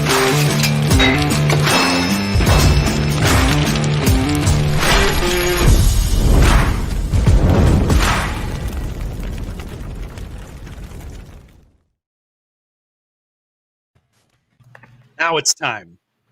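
A show intro bumper of booming crashes, explosions and mechanical clatter plays loudly for about twelve seconds and ends abruptly, followed by silence and then a short burst of voices.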